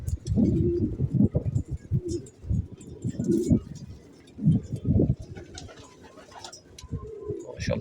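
Pigeons coo steadily at a loft of solid white full-posta birds, soft low throaty calls overlapping close by with occasional chirps and faint background sounds.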